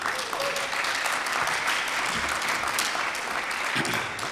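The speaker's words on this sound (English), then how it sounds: "How about a round of applause for Town Meeting TV?" A crowd at a town Democratic nominating caucus applauds, with dense, steady clapping that carries through for several seconds.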